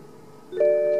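A BMW X6 F16 remote key operation gives a short electronic chime, a clear bright two-tone beep rising after a quiet moment, close and alone.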